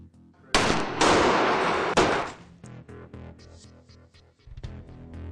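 A small school-science firework rocket charged with 1.5 grams of composition ignites with a sudden loud whooshing roar that holds for about a second and a half. It then breaks into crackling pops and bangs that fade out, with no talk over it.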